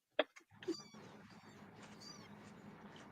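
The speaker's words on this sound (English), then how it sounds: "I hear some kitties." Cats in a craft shed: one short, faint meow sounds early, followed by a low, steady background hum, with no talking.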